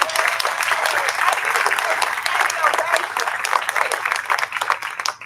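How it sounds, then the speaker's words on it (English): A large audience at a collegiate bowling awards show in Las Vegas applauds in a sustained, dense wash of clapping that holds steady for several seconds before thinning slightly at the end. "I think it deserves an applause"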